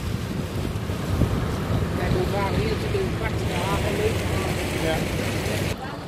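A port police boat cruises along Rotterdam's inner-city waterways with a steady low engine rumble, wind buffeting the microphone and water rushing past, while voices talk over the continuous drone.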